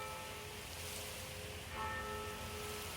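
Faint, sustained church bell tones toll from a distance in Eyam, England, over a soft outdoor hiss, with a fresh strike partway through.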